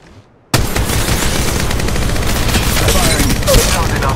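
Apex Legends Mobile gunfire starts abruptly after a short quiet moment, then dense overlapping bursts of shots and impacts continue loudly, with brief game voice lines mixed in.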